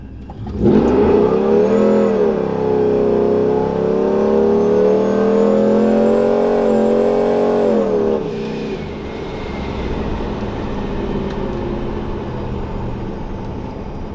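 Supercharged fourth-generation Ram truck makes a full-throttle pull with wheels spinning, a loud sustained engine roar and whine rising steadily for about seven seconds, then easing into a lower steady drone inside the cab.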